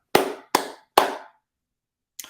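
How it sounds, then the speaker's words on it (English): Three sharp hand claps, made with the hands in a reversed position, come in quick, evenly spaced succession. They are close and loud, followed by silence and a faint final tap. "Using our hands in the reverse position, let's try clapping 3 times."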